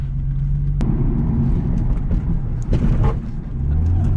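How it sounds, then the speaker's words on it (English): Interior driving sound of a 2004 Lexus IS300, a steady low road and engine rumble with a sharp brief knock and scraping noises as the car goes over a bump. "Oh, that's a little bit of a scrape."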